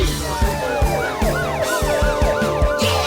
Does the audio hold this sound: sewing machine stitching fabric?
no